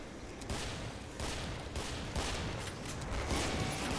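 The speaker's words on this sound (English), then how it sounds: "Artillery." Continuous heavy artillery and gunfire in the video game Killing Floor, a loud, dense barrage of overlapping blasts and rumble with no gaps.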